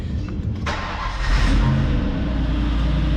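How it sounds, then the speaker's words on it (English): A 1997 Ford Taurus SHO with its Yamaha 3.4L V8 cranks and catches, then settles into a loud, close rumble that swells as the engine revs up. "We're just gonna go ahead and fire it up so we can hear that beautiful Yamaha V8."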